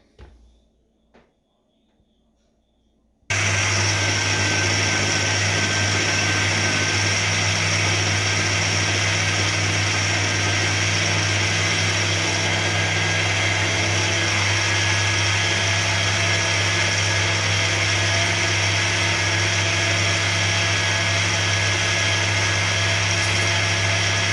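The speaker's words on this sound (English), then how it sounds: "I have to ensure that the peanut and the oats blend as smooth as possible. I'm blending this again." A kitchen blender grinds peanuts and oats at full power, a loud, steady motor whine that starts abruptly after a few soft bumps and continues unbroken.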